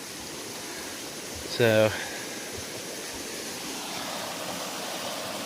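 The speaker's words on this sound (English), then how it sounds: "Lots of water flowing out here, folks." Stream water running along the Appalachian Trail near a footbridge, a steady broadband rush heard throughout, with a person briefly speaking over it.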